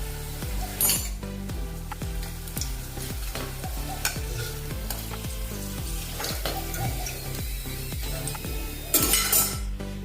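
Methi wheat-flour snack pieces frying in hot oil give off a continuous sizzle, broken by repeated scraping stirs and occasional metal clinks of a utensil against the pan.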